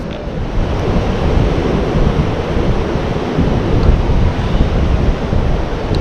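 Rough ocean surf at Cherry Grove Pier, a steady loud wash of breaking waves mixed with gusting wind buffeting the microphone, continuous with no talk.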